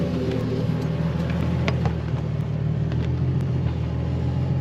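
A boosted Nissan 350Z engine idles, left running, as a loud, steady low rumble close by with no revving.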